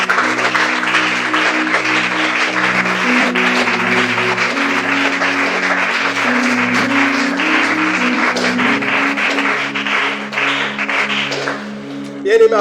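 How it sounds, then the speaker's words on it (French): A church congregation applauds during a service, a dense wash of clapping that carries steadily for about twelve seconds over a sustained organ or keyboard chord, then thins at the end. "On acclame pour la parole."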